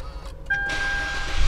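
A Mitsubishi Xforce Ultimate 1.5 CVT compact SUV is started with its push button: a brief electronic tone, then the engine catches and settles into a steady hum.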